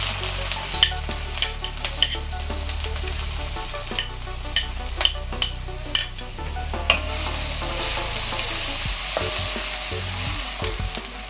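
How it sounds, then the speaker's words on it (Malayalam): Chopped ginger frying in oil with popping mustard seeds for a lemon peel pickle, a steady close sizzle broken by sharp crackles and spatula knocks, then continuous stirring. "ഇനി അത് പൊടിയെല്ലാം നന്നായിട്ട് പൊട്ടിക്കഴിയുമ്പോൾ അതിലേക്ക് അരിഞ്ഞു വെച്ചിരുന്ന ഇഞ്ചി ആദ്യമേ ചേർക്കാം."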